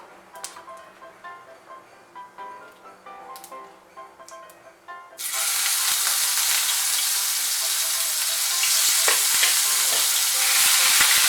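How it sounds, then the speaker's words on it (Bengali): Onion paste added to cumin in a pan for Bengali eggplant cooking: quiet stirring clicks at first, then a sudden loud, steady sizzle of frying that continues to the end. "জিরেটা একটু নাড়াচাড়া করে নিয়ে এর মধ্যে আমি পেঁয়াজ বাটাটা দিয়ে দেব।"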